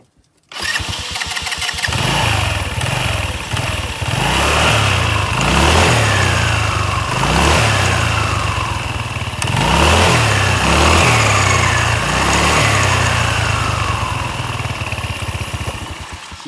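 A 125cc scooter engine revs repeatedly to spin its drive belt, loud and close, with rising and falling surges of throttle over a steady running drone and no talking.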